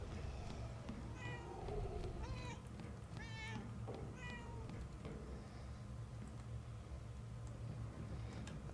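A cat meows several times in the Murdered: Soul Suspect video game, a series of short, fairly faint mews heard over a constant low rumbling ambience.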